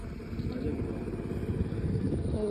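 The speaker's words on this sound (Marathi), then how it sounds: "तो ट्रॅक्टर चालले जातो" A tractor drives past in a rural Kokan village, its low rumbling engine steady and fairly close, a continuous chugging drone that builds slightly toward the end.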